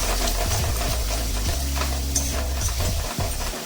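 Sour yogurt is stir-fried with spices over low gas for a vegetarian biryani, a dense sizzle under repeated scraping strokes of a spoon against the pan, close and continuous, with no talking.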